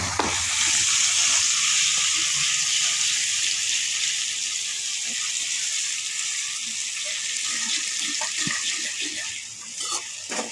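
Garlic, tomatoes and chillies tempering in hot oil for chole sizzle continuously and close by, with faint scattered stirring clicks throughout and no talking.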